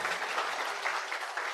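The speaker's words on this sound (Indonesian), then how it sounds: "Ya, tepuk tangan." Audience applause at a railway safety culture talk show, a moderately faint, steady crackle of many hands clapping together, heard alone without talk.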